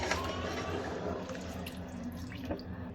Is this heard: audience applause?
no